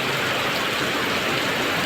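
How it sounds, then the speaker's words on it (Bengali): Heavy rain pours down outdoors in Kuala Lumpur, a dense, loud, unbroken hiss of water that stays even throughout the short stretch. "প্রচুর বৃষ্টি হচ্ছে"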